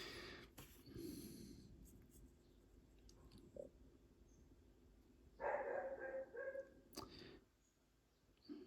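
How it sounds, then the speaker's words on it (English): A neighbour's dog barks a few times in the background, faint and distant, with quiet scratchy sounds of painting nearby. "Sorry about the dog barking in the background."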